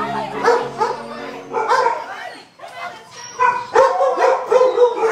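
Several dogs bark and yip in quick, overlapping bursts close by, with excited whimpers between the barks.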